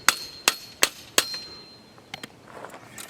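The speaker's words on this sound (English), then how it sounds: "So you just use a little hammer" Small hammer tapping a stainless steel real estate sign stake down into a gravel-filled hole: four sharp, ringing metallic taps at a steady pace, then a few lighter quick knocks, close and loud with no talking.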